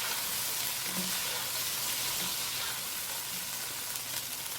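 Whole spices with a teaspoon of cumin sizzling steadily in hot oil in a pot as they are stirred, a continuous close frying hiss with faint scraping underneath.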